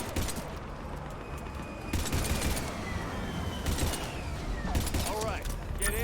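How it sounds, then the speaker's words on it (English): Pistol shots and scattered gunfire ring out in a Mass Effect 3 firefight, a few sharp cracks standing out over a dense, continuous battle din. "I'm going to have to use the pistol for this."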